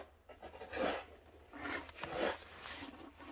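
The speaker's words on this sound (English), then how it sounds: "That's the sound of shoveling behind you." Snow being shoveled on a residential driveway and sidewalk: two drawn-out scraping strokes of a shovel, moderately distant, with faint background noise between them and no talking.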